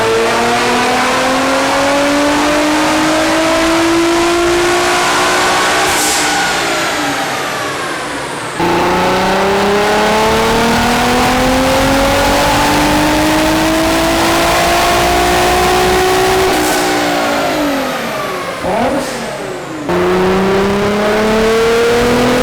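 A one-off widebody Nissan GT-R revs hard on a dyno, its engine note climbing steadily through the gears in long, loud pulls, with brief drops and shifts between each rising sweep.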